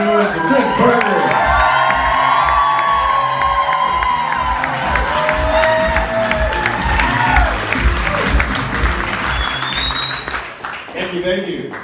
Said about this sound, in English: Please make some noise for Chris Berger.